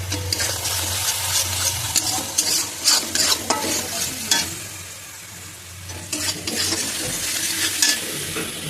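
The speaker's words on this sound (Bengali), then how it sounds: "মশলাটা কষানো হোক" Spice paste for a fish-bone curry fries in oil and is worked with a spoon, giving a loud bubbling sizzle under bursts of rhythmic scraping strokes, a brief lull and then more stirring, with no voices.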